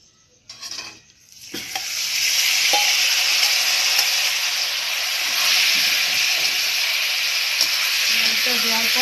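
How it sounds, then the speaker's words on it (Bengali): Cardamom and cumin fry in hot oil in a pan, starting with a few clanks, then a loud, steady sizzle that holds strong and continuous to the end. "তারপর এলাচটা জিরেটা দিয়ে দিলাম। লাল লাল করে ভেজে নিতে হবে।"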